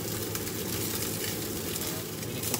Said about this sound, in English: Fry the egg and the onion